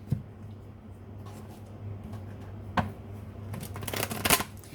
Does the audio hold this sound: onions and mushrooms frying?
no